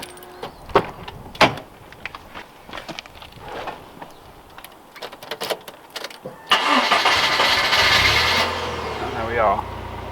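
An MG Rover with a Pektron alarm unlocks from a key fob: a few sharp mechanical clicks, then a louder whirring burst of lock and alarm activity lasting about two seconds before it settles to a lower hum.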